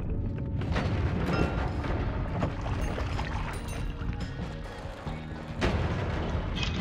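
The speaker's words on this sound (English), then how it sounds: "Let's add on some revenge explosion to this." Booming explosions and fire from the Noita video game pile into a dense, continuous roar with repeated heavy blasts, loud and close throughout, no talk over it.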